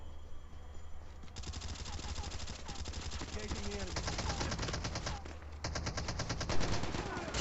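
Rapid automatic gunfire in a Call of Duty duo-versus-duo match, sustained bursts of close, loud shots rattling almost continuously while an enemy is taken down, with game sounds layered underneath.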